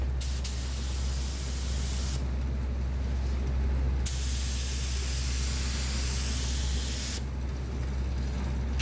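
A spray gun hisses dye onto a leather belt in close, steady bursts, with short pauses between passes and a constant low hum underneath.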